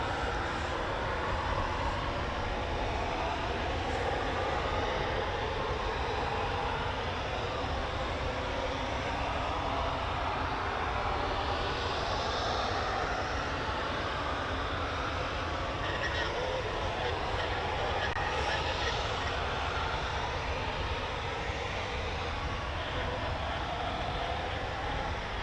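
Eurofighter Typhoon FGR4 jet taxiing at night at RAF Coningsby, a steady distant engine roar and whine held throughout without breaks.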